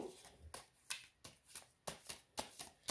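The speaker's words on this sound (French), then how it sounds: "je vais vous tirer une petite carte de la sagesse de Ponopono" Cards from an oracle deck are shuffled and drawn, a quiet series of crisp riffling flicks and slides, about a dozen short soft bursts close by with no talking.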